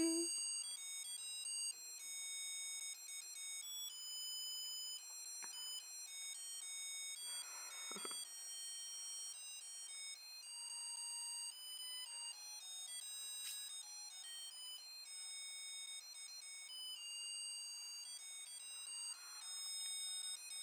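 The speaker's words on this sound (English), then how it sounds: "And of course this compact comes with a sound, so let's have a look if it works." A Polly Pocket Christmas compact toy plays its built-in electronic melody, a thin, bright chain of beeping notes like a ringtone that runs for about twenty seconds, close and quiet, with a couple of small handling clicks.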